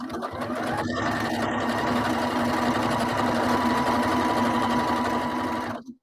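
A sewing machine runs a steady straight stitch on fabric decorated with butterflies, a close, continuous mechanical whir with a faint hum that holds for about six seconds before stopping abruptly.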